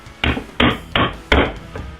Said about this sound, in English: So we're just punching a ring of holes